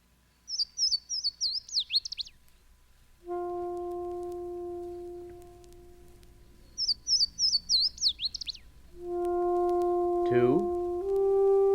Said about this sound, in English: Louisiana water thrush